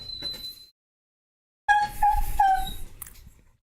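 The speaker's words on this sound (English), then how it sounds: "that's my dog. He's dying." A dog whimpers in high, thin whines, with a brief whine, then silence, then a longer run of several squeaky whimpers close by with no talk.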